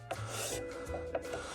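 Hand file tapering a spiral-cut pen blank down toward the hilt, a soft, close rasping rub in steady back-and-forth strokes, with a couple of light taps.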